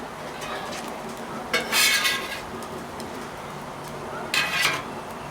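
A metal spatula scrapes melted cheese off a Blackstone griddle while smash burgers cook, making two short, harsh scraping bursts with light metallic clinks against a quiet background.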